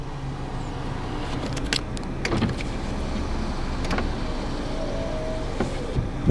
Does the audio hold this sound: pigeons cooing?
no